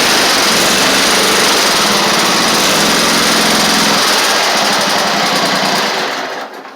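A Toro Z2550 zero-turn mower with a Kohler engine runs loud and close with a steady buzzing drone that fades at the end; the machine needs fuel system work.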